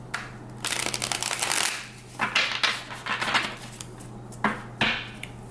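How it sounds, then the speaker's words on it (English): Tarot cards being shuffled close by in three bursts of rapid riffling and flapping, separated by short pauses, with no talking. "Let's shuffle this one more time."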